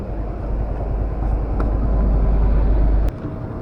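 A stock Honda TMX Alpha motorcycle rides across the Gallego bridge heading out of Manila, giving a steady, close engine drone with heavy low rumble and wind noise throughout, then a slight drop in level near the end.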